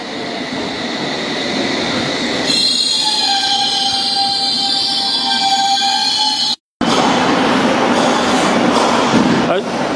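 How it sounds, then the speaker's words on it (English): A London Underground train at Fulham Broadway station, a steady loud rumble of the train with a rising whine and squealing tones as it moves, a brief dropout midway, then continued rolling noise; people talk faintly in the background. "the first train that's going to depart is going to"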